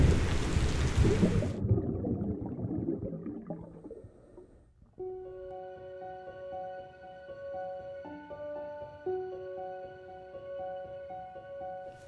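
Heavy rain pours and hisses loudly for a couple of seconds with low rumbling, then fades out as soft music takes over.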